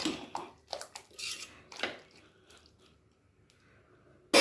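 Potato pieces dropped into a pot of mutton masala curry: a few brief clanks and soft thuds of metal cookware and a spoon in a quick irregular sequence, then quiet, ending with a sharp clatter.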